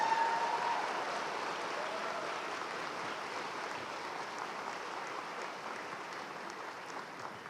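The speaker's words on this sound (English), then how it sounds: "Can we begin to celebrate with a hand clap for our 2018 graduates?" Audience at a 2018 fall morning commencement ceremony applauds the graduates, a broad, even roll of clapping from a large hall that starts a bit louder and gradually tapers while staying fairly distant.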